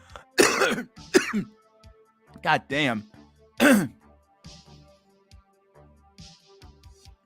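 Several harsh coughs and throat clearings in short bursts, close to the mic, with a brief spoken exclamation in between.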